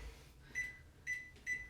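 Three short electronic beeps from a kitchen timer being set, evenly spaced and fairly faint against a quiet kitchen background.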